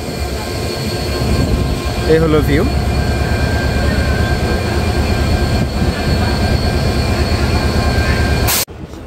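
A Kapotaksha Express train with a 3200-horsepower engine pulls out of Rajshahi railway station, a loud continuous rumble heard from the front with a brief wheel squeal, while someone talks over it.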